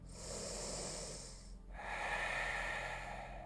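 A yoga practitioner breathes in deeply during a yoga practice, giving two long, close, airy breaths one after the other with a short gap between them, and no talking.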